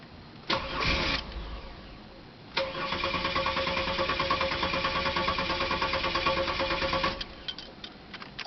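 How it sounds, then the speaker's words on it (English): A GM car with a bad fuel pressure regulator cranks over in a steady rapid chugging rhythm for several seconds without catching, preceded by a brief first crank and a few clicks afterward. "I'm going to go ahead and crank the motor"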